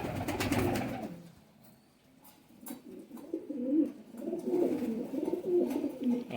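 Low, throaty coos of Khatang pigeons repeat in soft rolling bursts, close by, with brief rustling at the start and no talking.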